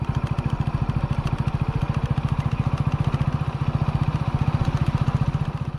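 Motorcycle engine idling close by, a steady low, even thumping pulse that runs unbroken and alone throughout.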